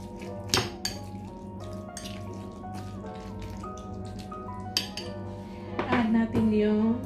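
A spoon clinks and scrapes against a bowl while tuna is mixed, giving a few sharp taps among softer wet stirring sounds, close up, with a voice speaking now and then.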